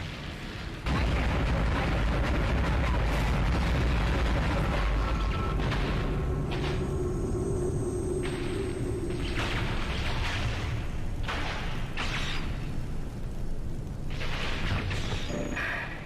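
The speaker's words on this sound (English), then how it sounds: "that scene had all the cannons in, so you probably couldn't hear us over it." Cannons in the Dead Space video game boom and rumble loudly and continuously, with heavy, explosive low blasts layered over mechanical clanks and bursts for the whole stretch.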